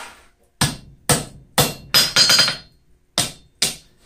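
A blacksmith hammers a forged steel knot, about nine sharp, ringing metallic blows in an uneven rhythm, close and loud, with brief decays between strikes and no talk.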